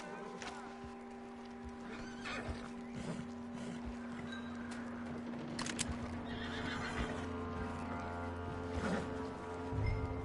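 A horse in Red Dead Redemption 2 neighs and snorts quietly over a steady hum of game ambience, with faint hoof movement and soft snuffling spread through the scene.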